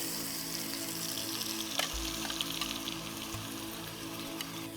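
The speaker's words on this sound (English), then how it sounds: "we're just going to fry this" A smooth blended spice paste fries in oil in a pan in a Penang spice garden kitchen, making a steady, close crackling sizzle with a few brief stirring clatters and no speech.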